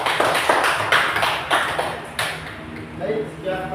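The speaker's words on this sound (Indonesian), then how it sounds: "Tepuk tangannya untuk kelompok 1" A classroom audience claps for a student group after its presentation, with loud, rhythmic claps at a steady beat that stop partway through, followed by a brief voice.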